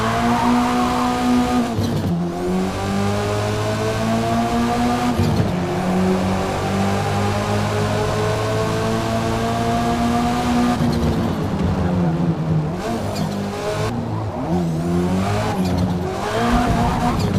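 An unidentified car in Forza Motorsport fitted with a 1.6 litre inline-four turbo engine swap revs hard and loud, climbing in pitch with several gear-change dips and tire squeal, with no one talking.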